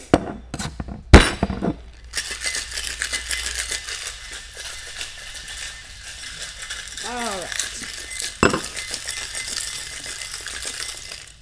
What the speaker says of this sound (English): so now we're gonna put the ice in